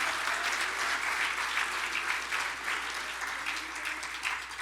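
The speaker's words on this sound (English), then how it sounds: "Let's give him a round of applause" A round of applause from the audience at a fishing awards ceremony, many hands clapping in a lively, dense wash with some individual claps standing out, continuous throughout.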